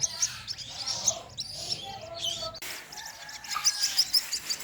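Newly hatched swamphen and waterhen chicks give thin, high peeps. The chirps come in short, scattered bursts, faint and close, over a soft background hiss.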